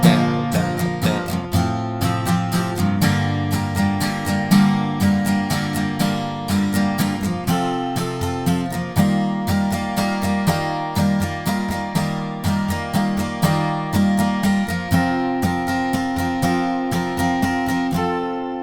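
An acoustic guitar strums the first chorus of a song in a steady down-and-up pattern, the chords ringing full and bright, close and loud, with no voice over it.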